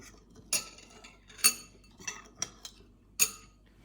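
A spoon mixes ingredients in a dish while salmon is being prepared, giving several sharp metallic clinks at uneven intervals with quiet gaps between them and no talking.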